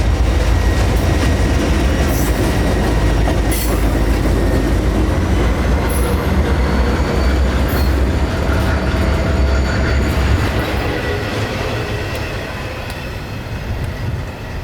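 A long CSX intermodal freight train rumbles past close by, a steady heavy roar with rhythmic wheel clatter and occasional faint squeals, fading slightly toward the end.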